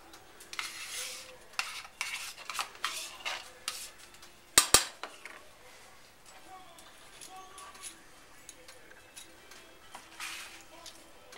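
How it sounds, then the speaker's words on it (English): A whisk blends an 8-ounce container of sour cream into a scalloped potato casserole mixture, giving quiet scraping and clinking strokes against the bowl with a louder clatter near the middle. "I'm going to mix this in with my whisk."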